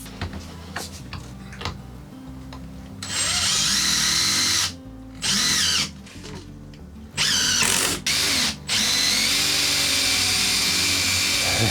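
A power drill driving stubborn screws, whirring in several bursts of differing length that start, stop and restart, with small clicks and handling noise between runs.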